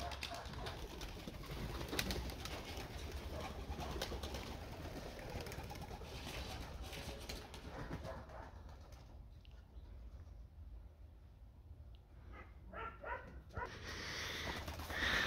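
Pigeons coo in a home aviary, soft repeated throaty calls against a continuous rustling background, with a dog briefly barking nearby toward the end.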